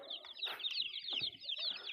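Jersey Giant chicks peep nonstop in a dense chorus of high, overlapping cheeps, close by and steady throughout, with no one speaking.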